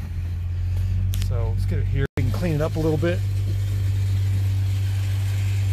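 An old truck, owned for thirty years, idles steadily in a shop with a low constant engine drone that runs throughout, while someone talks over it for a couple of seconds.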